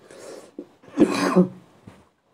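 A person coughs a few times close to the microphone, with a harsh, raspy burst in the middle.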